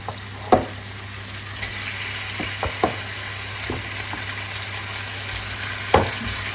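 Chicken sizzles steadily in butter in a hot pan while a utensil scrapes and knocks against it in occasional stirring strokes, close by, with no talking.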